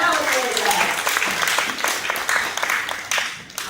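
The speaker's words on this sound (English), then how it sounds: "let's give Nicholas a huge round of applause for this" Audience applause at a parrot show in an outdoor park, a steady burst of clapping from a crowd lasting several seconds, mixed with a voice speaking over it.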